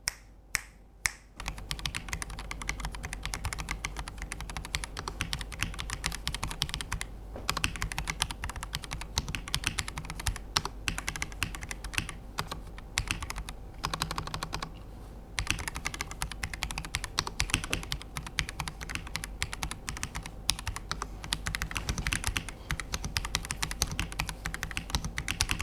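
Continuous, rapid typing on a PressPlay Apollo 61 Lite keyboard with ivory linear switches, heard close-up as a dense stream of crisp keystrokes that runs steadily for about twenty-five seconds after a few separate taps at the start.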